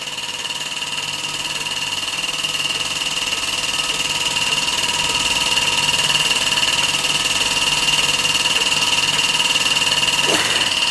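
A restored 1946 Mamod SE1 model steam engine runs steadily on gas heat, giving off a continuous close hiss with a thin, even whine that holds throughout.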